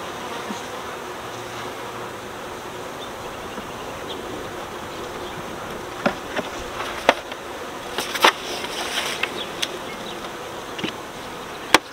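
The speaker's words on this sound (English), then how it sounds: "a pretty good covering of bees." A steady, close drone of many honeybees buzzing on a hive frame, with a few sharp clicks and taps near the end.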